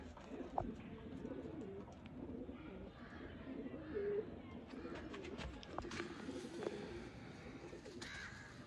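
Sialkoti pigeons coo softly in a kept flock, low repeated murmuring calls at moderate distance with some chirps and flutters, while someone talks nearby.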